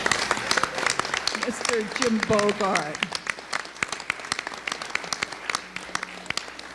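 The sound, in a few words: audience applause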